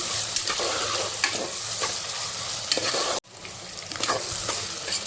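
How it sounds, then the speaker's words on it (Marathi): Onions sizzling steadily in hot oil with cumin for chicken pulao, stirred with repeated scraping strokes, the loud frying briefly cutting out before carrying on. "कांद्याला व्यवस्थित परतून घेणार आहे"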